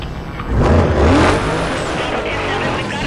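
A car in Need for Speed: Most Wanted (2005) accelerates hard, its engine roaring and rising in a loud, dense rush that then holds steady at speed.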